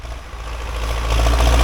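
An MTZ tractor engine hauls a GENERAL disc harrow across a dusty field in the Odesa region. Its loud, steady low drone builds slightly as the load increases, with no voices.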